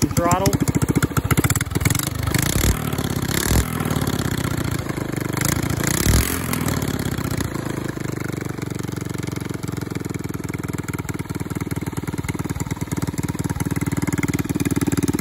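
Small engine of a mini drag scooter with an adjusted carburetor and a loose sprocket, revving loudly in bursts under throttle before settling into a steady clattering idle, with people talking nearby.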